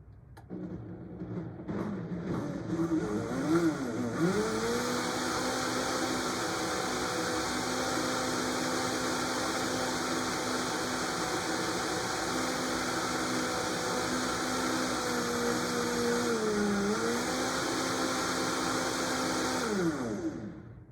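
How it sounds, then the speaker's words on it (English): A blender blending chocolate cream pie filling starts up and runs at a steady, loud whir for about fifteen seconds, its pitch dipping briefly before it winds down and stops. "Now we're gonna blend that in the blender just until it's really smooth."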